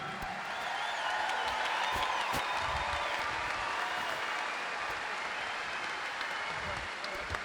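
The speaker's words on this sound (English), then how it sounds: "Big round of applause for a huge company." Crowd applause at a deadlift championship event: a large audience clapping loudly and continuously, with scattered whoops and cheers rising over the dense clatter of hands, captured in a big, reverberant hall.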